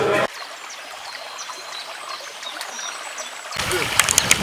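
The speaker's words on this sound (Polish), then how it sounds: "Rzeka, piękna rzeka." The Rega river flows and trickles steadily in a soft, continuous wash, growing louder and splashier near the end.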